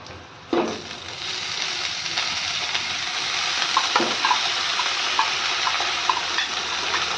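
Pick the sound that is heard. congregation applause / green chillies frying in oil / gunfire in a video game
green chillies frying in oil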